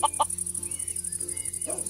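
A Minecraft chicken clucks in short, close, clear bursts at the start and end, over a quiet steady game background with no talking.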